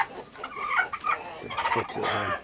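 Chickens cluck and chatter close by in a homestead coop, a mixed flock that includes an old Cornish cross rooster, with a steady run of overlapping calls across the whole stretch and no talking.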